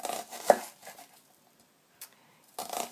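A knife chops through an onion on a board in a few separate strokes. There is one crisp near chop, a lighter one later, and a final rougher cut, with quiet pauses between them.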